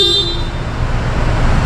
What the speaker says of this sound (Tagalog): Then busina po.